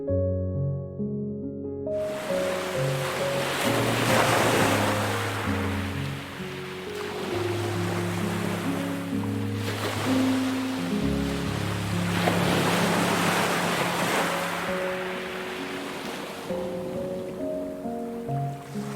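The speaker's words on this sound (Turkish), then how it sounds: "Dalgaların hafif sesi tüm düşünceleri sakinleştiriyor." Gentle ocean waves wash in and recede in slow, repeating swells, soft and continuous with a breezy hiss, no voices.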